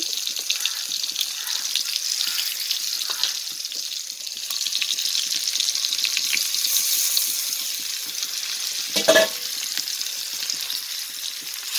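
Prawns sizzle in oil in a pan on low heat for a prawn roast, a continuous close frying hiss with faint stirring clicks and one brief louder scrape.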